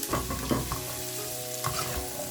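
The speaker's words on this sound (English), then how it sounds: "The heat should be high because this is stir fry" Vegetables stir-fried over high heat for chilli chicken, sizzling steadily and loudly with scraping and tossing noises throughout, no talking.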